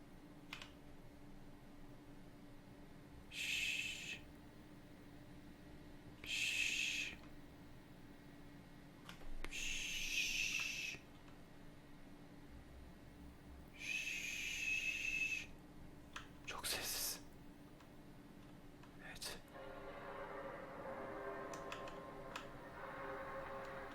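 Electronic whirring and clicking sounds from an owl animatronic robot in the survival game Case 2: Animatronics Survival come in several separate short bursts over faint, quiet background noise, followed by a longer buzzing stretch near the end.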